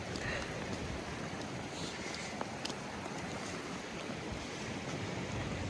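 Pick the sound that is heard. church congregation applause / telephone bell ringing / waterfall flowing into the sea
waterfall flowing into the sea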